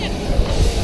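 Airplane engine noise at boarding for a flight from Cap-Haitien, a steady low droning hum with a faint high whine, fairly loud and continuous over a short stretch.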